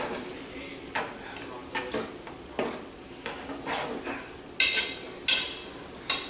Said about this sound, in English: give that there a quick little stir